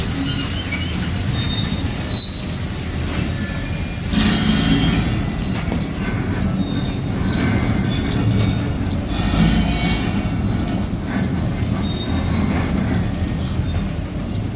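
An old, slow train rolls through the semi-abandoned Renala Khurd railway station in Pakistan, with wheels squealing and screeching on the rails over a constant low rumble and occasional clanks, continuous and fairly close, with no speech.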